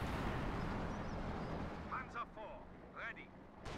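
Artillery barrage from a Sexton self-propelled gun in the video game Company of Heroes 2, heavy rumbling blasts and booms filling the clip under a steady battle din, with a commentator talking over it.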